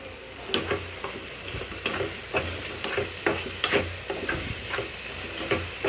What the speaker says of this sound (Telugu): కలుపుదాం ఒకసారి కలుపుదాం.